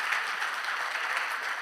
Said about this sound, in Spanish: esto merece un aplauso para nuestro Señor Jesucristo